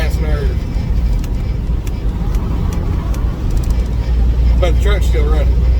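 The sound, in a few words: semi truck engine running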